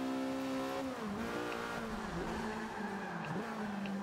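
A Lotus race car in Forza Motorsport 5 on a Prague circuit, its engine holding a steady high drone that dips and rises through gear changes and corners, with tyres squealing in places.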